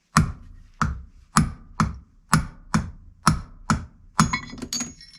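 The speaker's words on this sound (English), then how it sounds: "So I'll just tap that out." A hammer strikes a punch to drive out a seized front brake caliper pin on a Mini Cooper, about nine sharp metallic taps in a steady rhythm, close and loud with no talk.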